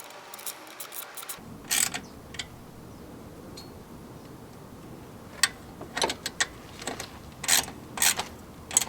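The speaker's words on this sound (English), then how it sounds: "You're going to want to tighten this bolt first." A hand ratchet tightens a bolt to retension a drive belt on a Toyota 22RE engine, giving quiet clusters of quick clicks in short intermittent bursts against a near-silent background.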